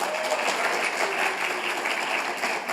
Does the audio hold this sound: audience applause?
yes